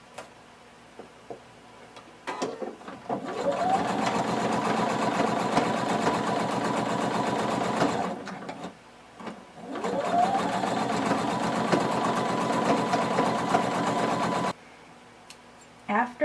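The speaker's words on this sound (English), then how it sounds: "We're going to sew on our tank, not our binding, pretty close to the edge" A sewing machine top stitches close to the edge around a tank top neckline, running in two long steady bursts of rapid needle chatter with quiet pauses between.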